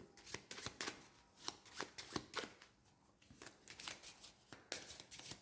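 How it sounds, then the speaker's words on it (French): Deck of cards for an Arkham Horror board game being shuffled: repeated quick riffles and slaps in bursts, close by and fairly quiet, with no talking. "Donc je vais mélanger tout le paquet."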